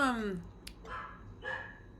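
A dog barks a few short times indoors at moderate volume, mixed with a person's speech between the barks.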